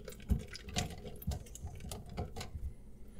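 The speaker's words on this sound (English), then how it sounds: "There's the water starting to go out." Water starts draining from a clogged kitchen or bathroom sink, with close irregular gurgles, drips and knocking pulses at an uneven pace from the p-trap pipe.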